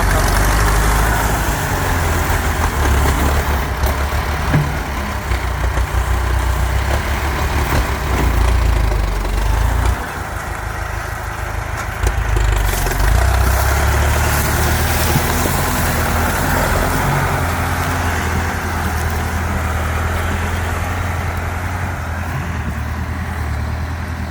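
A Ford T5 sugarcane loader's heavy diesel engine idles with a deep, steady rumble, rising and falling as it is revved, loud and close throughout, loading cane onto a twelve-wheel truck.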